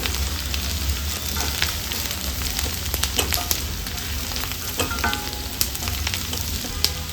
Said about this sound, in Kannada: ಈ ಹದದಲ್ಲಿ ಈರುಳ್ಳಿ ಫ್ರೈ ಆಗುವಾಗ ಅರ್ಧ ಹೋಳು ತೆಂಗಿನಕಾಯಿಯನ್ನು ಕಟ್ ಮಾಡಿ ಹಾಕೊಳ್ತಾ ಇದ್ದೀನಿ